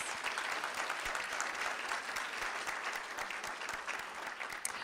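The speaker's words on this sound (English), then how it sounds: "Let's give her a round of applause." Applause from the audience at a school district board of trustees meeting honoring a student, a moderately distant, steady patter of clapping from a modest crowd, fairly quiet throughout.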